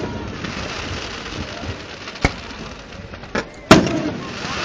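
Fourth of July fireworks in West Allis, Wisconsin, 2013: a few sharp, distant bangs, two of them standing out, rise above a steady noisy outdoor background.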